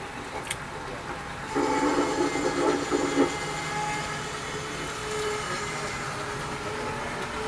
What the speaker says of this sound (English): Yeah, here's a TP train.